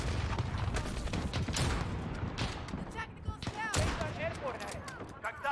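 Gunfire in the video game Call of Duty Modern Warfare during a sniper firefight, with sharp shots and bursts cracking over a steady battle din, while a player talks excitedly over it.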